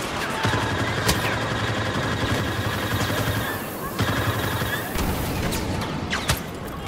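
Disruption secondary fire shots in the Star Wars Battlefront video game, a steady run of rapid gunfire-like bursts with sharp cracks, a short pause near the middle and then more shots, up close and loud, with no talk over them.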